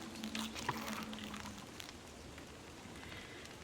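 Rain in the Don't Starve video game patters softly and steadily as a continuous wash, with a faint crackle that may come from a nearby fire pit.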